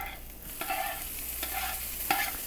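Eggs being stirred and broken up in a hot pan for cheddar bratwurst breakfast burritos, with steady soft frying and several sharp scraping stirs of a utensil against the pan, close and alone.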